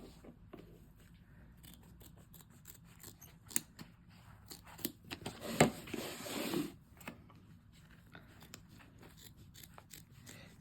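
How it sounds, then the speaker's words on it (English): Double curved scissors trimming appliqué fabric close to the stitching on an ID badge holder, quiet snips and rustling that build to a denser flurry of cutting near the middle before fading back to faint clicks. "you're just going to trim along that tack down, getting as close as you can without cutting into the stitches"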